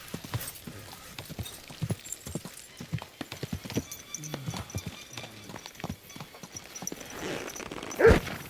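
Steady clip-clop of horse hooves at a walking pace in the video game Kingdom Come: Deliverance II, crisp and close, followed by a short snort or whinny near the end.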